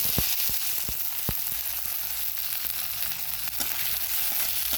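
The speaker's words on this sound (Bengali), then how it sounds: "এখন দিয়ে দিব এই যে রসুন পেঁয়াজ কাঁচামরিচ" Garlic, onion and green chili sizzle in hot oil with a pinch of cumin, a loud steady frying hiss broken by a few sharp crackles and pops.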